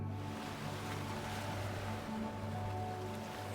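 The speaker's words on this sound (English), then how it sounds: "The sound of the waves grow clearer." Ocean waves wash in a steady, dense rumble of surf, constant and fairly close with a low droning undertone and no voices.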